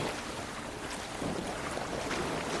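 In the video game The Last of Us Part II, a steady rushing wash of waves and water with a low boat engine hum underneath, continuous and fairly loud, no voices.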